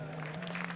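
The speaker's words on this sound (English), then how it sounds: "We got the new clapping." Canned studio audience clapping on a talk show, a steady wash of applause heard alone over a low constant hum.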